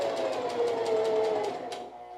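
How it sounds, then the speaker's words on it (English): A sewing machine stitches off the end of a fabric dart, a rapid, even run of needle clicks with a motor whine, close and clear, slowing and stopping near the end. "I am literally going to sew off the end of the dart."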